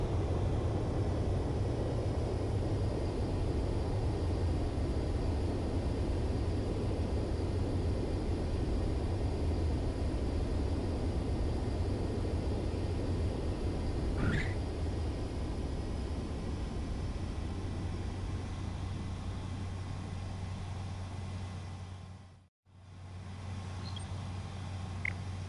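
Jet aircraft on landing approach in Ace Combat 7, a steady loud broadband engine roar with a low hum that holds throughout, briefly cutting out near the end before resuming.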